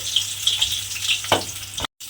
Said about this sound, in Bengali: পটলগুলো তেলের মধ্যে দিয়ে ভেজে নেব